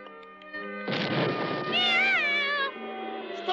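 A cartoon cat from a Smurfs episode meows and yowls loudly as it attacks, a long rising and wavering caterwaul over background music, close and alone.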